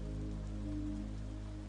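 Steady rain falling and dripping from tree branches makes a continuous soft hiss over a low, sustained hum, with no talking.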